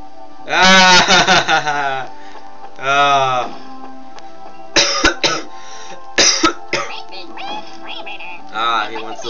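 Several harsh coughs come in bursts, a loud cluster up close followed by another fit and scattered shorter coughs and throat noises, with a game's background sounds faintly underneath.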